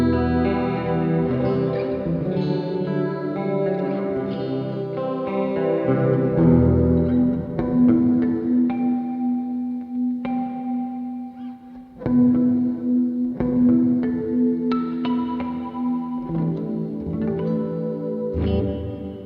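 Guitar played through the Room 2 reverb setting on a modulator effects pedal, sustained chords and notes blooming into a spacious, shimmering wash, loud and alone.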